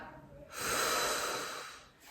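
A deliberately wrong breathing pattern demonstrated, with the belly pushed out on the exhale: a single loud, breathy airflow swells in after a quiet moment, holds for over a second, then fades, close to the mic with no talking.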